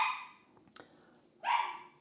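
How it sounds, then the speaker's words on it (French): A dog barks in two short bursts, a sharp bark at the start and a second louder one about a second and a half later, with a quiet pause between them. "Bon, le chien qui jappe."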